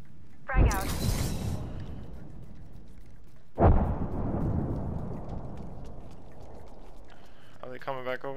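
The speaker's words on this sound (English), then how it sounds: "Throw my grenade out. Frag out." Two frag grenade blasts in Apex Legends, each a sharp boom with a rumbling tail, about three seconds apart, followed by a brief voice near the end.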